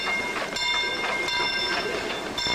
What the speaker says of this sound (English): The train had this caboose on it.